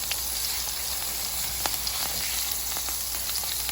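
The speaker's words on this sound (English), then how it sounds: "Pork's cooking nicely." A pork tenderloin searing in a pan gives off a steady, even sizzle and crackle of frying, with scattered small pops, continuous and fairly close throughout.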